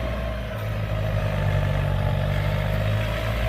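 Engine of a Kubota M108S tractor running steadily as one of two tractors set up for plowing with a three-disc plow, a constant low rumble with faint clatter, close and alone.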